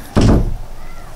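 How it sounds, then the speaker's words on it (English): Wind blows a door shut with a single sharp, close thud that fades quickly into quiet room tone. "The wind closed my door."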